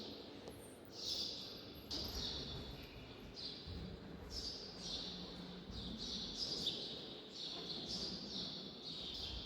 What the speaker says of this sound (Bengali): কি সুন্দর পাখির কুজন